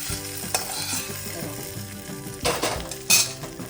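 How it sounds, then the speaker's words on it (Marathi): Hot tempering oil is poured into green chutney, giving a brief crackling sizzle with a few sharp clinks of a utensil against a pot over a steady bed of background music. "छान फोडणी घेतली बघा चटणीला"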